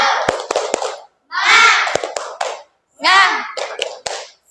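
Children in a classroom clap out a rhythmic chant pattern in three bursts, sharp hand claps mixed with shouted young voices, loud and close.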